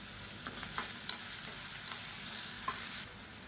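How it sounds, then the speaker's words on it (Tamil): Onions and green chillies sauté in a pan for cabbage sambar, a quiet, continuous sizzle with a few brief scraping stirs, no voices. "இப்போ பாருங்கள், வெங்காயம் பச்சை மிளகாய் எல்லாமே லேசாக வதங்கிடுச்சு."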